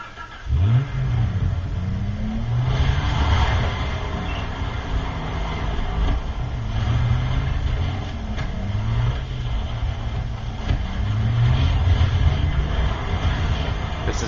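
A vehicle is driven in the Far Cry 3 video game, its engine droning steadily and surging in rough, uneven revs while it runs along a road, with no talk over it.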